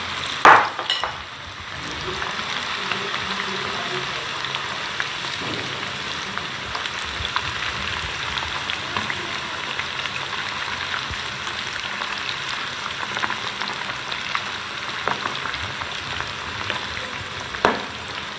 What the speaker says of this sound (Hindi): आप इसे इतनी देर फ्राई कीजिए कि ये अच्छी तरह आपको लगे कि ये अंदर तक इसका जो है गोश्त गल गया है।